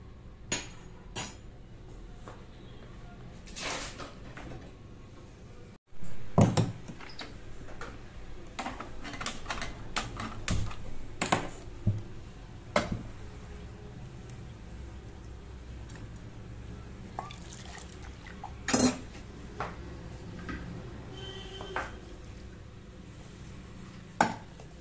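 Cooked field beans being mixed in a pot for avarekaalu saaru, heard as quiet, scattered metallic clinks and taps of a spoon against the vessel over a faint room background.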